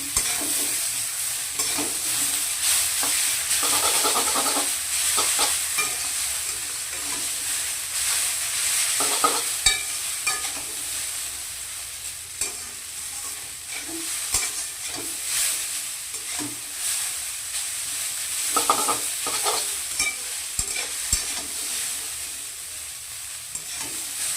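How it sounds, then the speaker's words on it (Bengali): Chow mein noodles are stir-fried in a hot pan, restaurant style, with a continuous crackling sizzle and repeated scraping and tossing bursts of the spatula throughout. "চাউচাউগুলোকে এখন ভালো করে নাড়াচাড়া করতে হবে"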